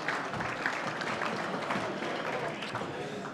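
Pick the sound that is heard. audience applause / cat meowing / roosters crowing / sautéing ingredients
audience applause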